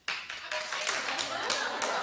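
A television talk show studio audience starts clapping abruptly and keeps up a brisk, dense clapping with a few louder accents for a couple of seconds.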